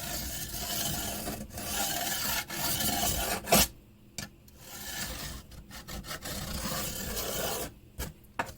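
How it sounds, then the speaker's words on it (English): A triangle file rasps back and forth, cleaning burrs out of a chainsaw bar's channel, in steady close strokes with brief pauses between passes and no talking. "Use your file to clean your edge up."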